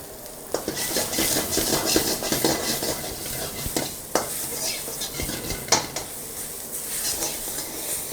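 Garlic, ginger and green chilies stirred in a hot pan for an Indo-Chinese street dish, a steady sizzle broken by the scrape and clink of a utensil against metal, close and continuous with no talking.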